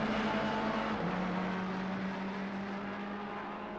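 A yellow Ferrari race car in the Assetto Corsa Competizione racing game drones with a steady, loud engine note that shifts slightly in pitch, continuous and close, with no talking.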